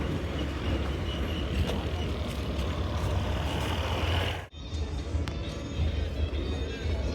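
A TNSTC bus engine rumbles steadily, close and fairly loud, with a brief dip partway through before the low drone resumes.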